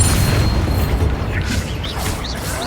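The Bombarda spell goes off in Hogwarts Legacy, in a goblin mine, as a loud, booming explosion with a crackling burst and a rumbling tail.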